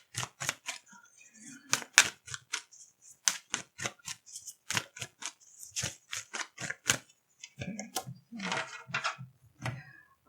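Playing cards being shuffled, a run of sharp, crisp riffling snaps and flutters close by, repeating in quick irregular bursts across the whole stretch with brief pauses between them.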